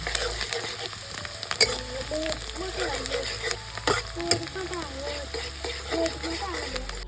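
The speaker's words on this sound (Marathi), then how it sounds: "इकडे कांदा भाजतो" Onion frying in oil in a kadai for mutton curry, a steady close sizzle with stirring scrapes throughout, under background voices and household noise.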